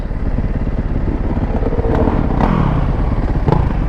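A 450 dirt bike engine runs loud and close, a continuous rough rumble rising and falling as it revs, with a few sharp clatters over the throttle blips.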